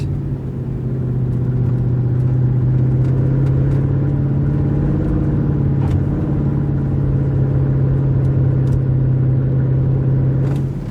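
A Mercedes C63 engine drones steadily and loudly throughout, its deep rumbling exhaust note held at a constant rev level, recorded close up with no talking.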